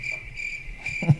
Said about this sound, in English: We actually recorded crickets in the parking lot.